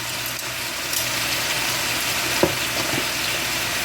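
Beef browning in pans on a stove, a steady broadband sizzle running throughout with a few brief clinks from stirring, close and fairly loud, no talking.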